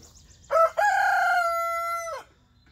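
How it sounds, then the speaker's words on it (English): A rooster crows once nearby, loud and drawn out, with a clipped start and a long sustained call that trails off. "We got roosters crowing, chickens clucking,"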